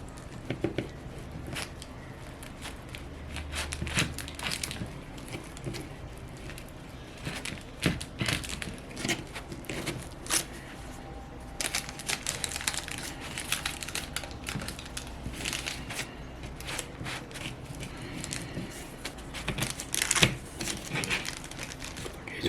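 Knife or cutter slicing through a hot almond flour gluten-free keto pizza crust, repeated crunchy crackling and scraping bursts over about twenty seconds, close and moderately loud, with occasional talk.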